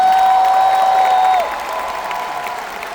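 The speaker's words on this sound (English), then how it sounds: "You should clap your hands and shout like you heard me." An audience at a Tim Storey event in Edmonton claps and shouts under a loud sustained tone, likely a held musical note, that drops away partway, leaving the crowd noise softer and steady.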